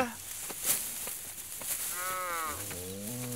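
Village cattle being fed paddy straw let out a loud, close moo: a long, deep, drawn-out call that rises then settles, heard alone over a rustling farmyard background.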